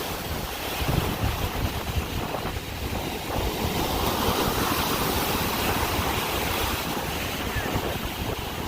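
Heavy wind buffets the microphone while big ocean waves roar and crash continuously close by at Presque Isle, loud and unbroken throughout.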